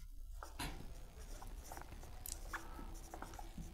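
A pen scratching across paper in short, quiet strokes, with an irregular rhythm of soft, close-up scribbles in a still room.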